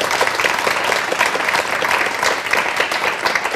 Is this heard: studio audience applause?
yes